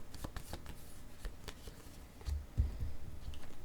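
Tarot cards shuffle in quick, close riffling bursts with soft taps and flutters, growing slightly louder toward the end, no talking.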